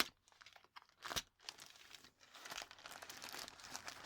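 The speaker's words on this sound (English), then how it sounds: "gently but firmly cut the packaging" Plastic packaging around a Xiaomi Redmi 9C/9A replacement screen assembly being cut open, with close crinkling, tearing and crunching in irregular bursts and a sharp snap near the start, quiet overall.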